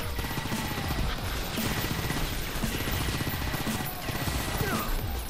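Minigun fire in the video game Painkiller: Reload, a dense, continuous rattle of rapid shots sustained at steady loudness for several seconds amid game noise.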